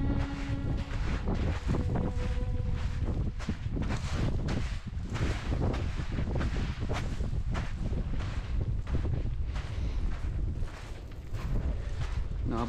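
Strong wind blowing outdoors near Suilven in the Scottish highlands, buffeting the microphone in continuous loud gusts and rumbles for the whole stretch.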